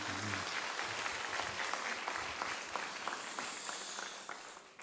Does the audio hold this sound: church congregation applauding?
yes